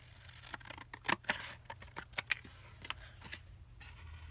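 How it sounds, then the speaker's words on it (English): Scissors snip off the edges of paper while a gift list journal is being made, giving a quiet, close series of irregular sharp cuts with short pauses between them. "I'm going to cut off these edges."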